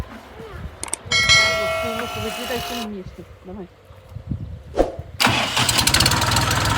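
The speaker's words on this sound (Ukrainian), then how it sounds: "Так, заводимо трактор." An MTZ tractor engine cranks and sputters, falls quiet, then catches and roars into a loud, rattling idle, with a few clanks along the way.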